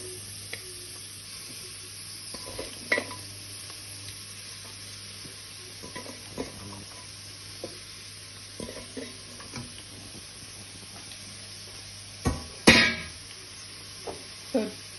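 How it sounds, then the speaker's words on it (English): Grains and carrots added to a sizzling pot for a Jamaican-style chicken curry: a low, quiet sizzle runs throughout under scattered scrapes and clinks of stirring, with one sharper clatter near the end. "Next, we are going to add all of the grains and the carrots."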